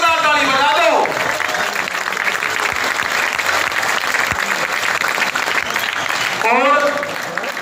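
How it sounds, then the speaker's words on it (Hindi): Loud, sustained applause from a large crowd at an election rally in Mehrauli, Delhi, steady clapping throughout with voices briefly rising over it near the start and end. "भाई जोरदार ताली बजा दो।"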